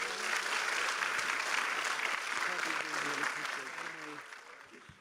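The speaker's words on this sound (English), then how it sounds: "Join me in giving a warm Blue Raider, true blue, round of applause to our great governor." A university audience applauds the governor at a Blue Raider campus event in Tennessee, a dense, sustained wash of clapping that stays loud and then thins and fades toward the end, with faint voices mixed in.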